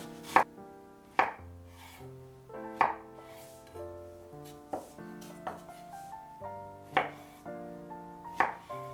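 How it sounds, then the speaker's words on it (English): A knife chops ripe mango into cubes on a board, about a dozen crisp, evenly spaced cuts over steady background music. "Cut the ripe mango into cubes."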